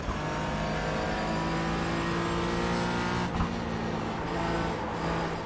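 Race car engine in the iRacing sim game drones loudly at high revs, a dense buzzing harmonic tone holding steady with a brief dip as the car slides through a corner, alone without speech.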